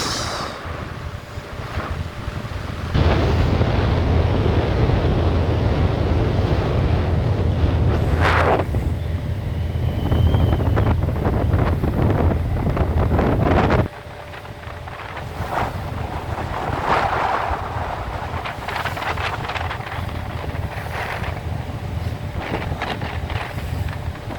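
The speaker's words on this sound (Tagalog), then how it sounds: "medyo may talakas sa hangin" Strong wind buffets the microphone on a ferry deck near Batangas in a steady, heavy roar, with rushing water and a low boat rumble underneath; no one speaks.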